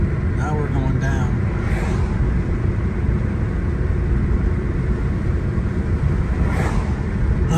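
A car driving along a mountain road among ponderosa pines between Stanley, Idaho and Missoula, Montana, heading downhill: a steady, close low engine and road rumble from inside the cabin, with brief voices early on.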